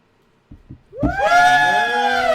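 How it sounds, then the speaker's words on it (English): Cheering crowd on a debate show, rising shrill whoops and shouts that swell suddenly after a couple of soft thumps and then sustain loudly to the end. "That's the cheer"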